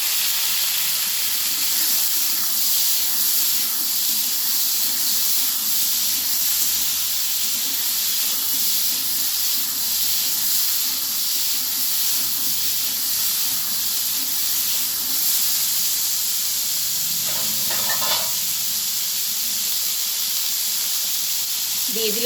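A soft, steady hiss of green peas cooking in a hot pan, with broccoli among the dish's ingredients, a faint and continuous sizzle throughout with a brief louder scrape near the end.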